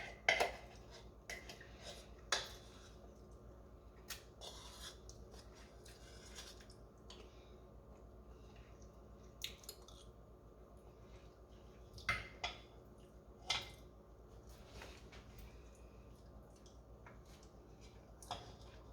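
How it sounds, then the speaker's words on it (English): Quiet, sporadic clinks and scrapes of a spoon against a bowl as leftover brownie mixture is eaten, with soft wet squishing sounds between scattered sharp taps. "And those wondering what noises are, I'm eating the rest of the mixture."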